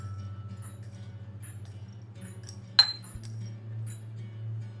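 A metal teaspoon gives a single bright clink while peppercorns are measured out for pickling, set against a steady low hum in an otherwise quiet room.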